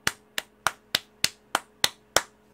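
A lone, deliberately slow golf clap: eight crisp, evenly spaced hand claps heard up close, each with a short tail, and no talking.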